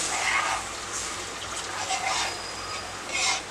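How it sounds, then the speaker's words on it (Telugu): Water pouring into a pan of frying cabbage Manchurian balls, a steady watery gush with brief swells, close and fairly loud, no voices. "ఒక వన్ కప్ వాటర్ పోసుకున్నాం"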